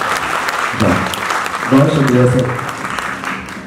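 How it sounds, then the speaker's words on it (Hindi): Audience claps for a guest at a film writers' talk, a short burst of applause rising briefly as someone speaks over it, the clapping fading under his voice. "आपके लिए तालियां हैं।"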